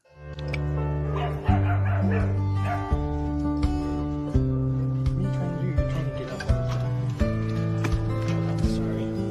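A dog in a rescue story about a 16-year-old shelter dog barks and whimpers over steady background music, with repeated yips and whines spread across the clip.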